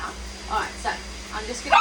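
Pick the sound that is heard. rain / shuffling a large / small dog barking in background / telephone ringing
small dog barking in background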